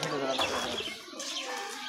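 Giribaz pigeons cooing in a loft, soft low throaty coos with a few brief chirps, close by and fairly quiet.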